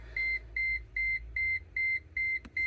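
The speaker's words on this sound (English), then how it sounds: "let me remove the key so the beeping stops" A steady electronic key-in warning chime from a Mercedes-AMG G63 beeps in a regular repeating pattern, about seven evenly spaced tones over a low engine-like hum.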